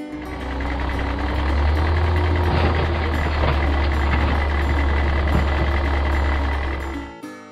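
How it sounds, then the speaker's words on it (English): Garbage truck backing up, its heavy diesel engine rumbling steadily while reversing beeps sound in a regular rhythm throughout, loud and close, with the engine cutting off abruptly at the end. "Garbage truck."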